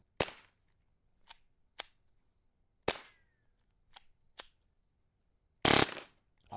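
A suppressed Taurus TX22 .22 pistol with an extended magazine fires a string of sharp, snappy shots at uneven intervals, with short pauses between bursts and a louder final report.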